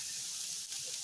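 Chicken pieces sizzling on a grill at a family carne asada, a steady close hiss and crackle of frying meat with no talk over it.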